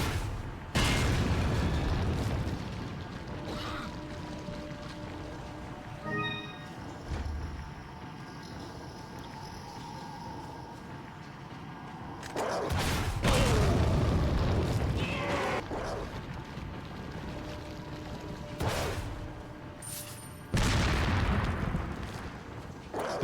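Rocket launcher blasts and heavy explosions in a Resident Evil 4 randomizer run, several booming impacts spaced across the stretch with quieter game ambience between them.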